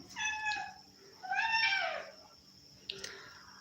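A cat meows in short, clear cries, two close calls followed by a softer one, close and alone against a quiet indoor hum.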